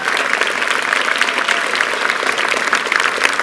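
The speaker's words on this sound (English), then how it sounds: "Graduates, give these guys a massive round of applause." A graduation audience gives dense, continuous applause at a high school ceremony, a steady wash of many hands clapping close and loud.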